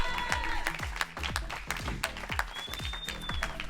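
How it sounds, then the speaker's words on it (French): A small audience claps to welcome Jennifer of the Transit association at a charity event in Béziers, steady scattered clapping with some individual sharp claps, a faint whistle-like tone, and low murmuring underneath. "Applaudissez-la"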